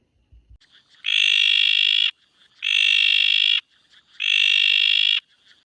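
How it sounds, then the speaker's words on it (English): Bleeding tree frog calling three times: long, loud, buzzy, harmonic notes about a second each, separated by short quiet gaps. "The first species is actually known as the bleeding tree frog. So here's the call."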